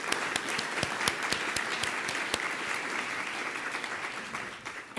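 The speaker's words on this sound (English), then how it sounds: "So, quick round of applause for the speakers from today." Sustained audience applause for the speakers at a book-industry conference event, many hands clapping steadily and close for the full stretch, with a few sharp individual claps standing out and no talk over it.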